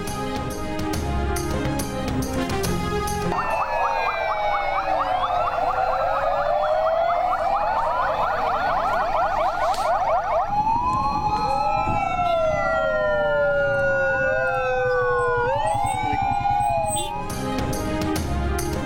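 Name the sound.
ambulance sirens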